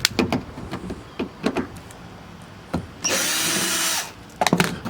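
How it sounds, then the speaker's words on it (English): A power drill runs in one sustained burst of about a second, backing self-tapping screws out of a Ford Mustang Foxbody tail light, amid nearby clicks and handling knocks. "I need to take this back off right here, take those screws out"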